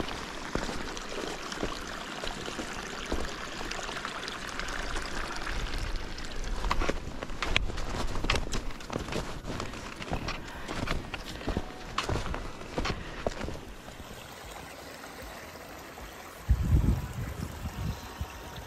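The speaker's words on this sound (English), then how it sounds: "So we started hiking in an actual creek." Footsteps of a hiker wading up an actual creek in snowy country, a run of irregular splashing steps over trickling water, then quieter flowing water with a heavier splash near the end.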